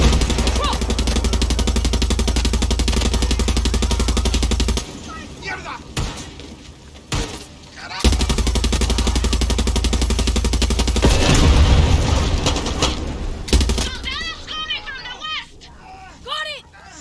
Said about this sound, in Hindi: मशीन गन ये